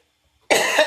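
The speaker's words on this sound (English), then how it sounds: "This coughing, I don't know what's going on." A single sharp cough bursts out close by after a moment of silence.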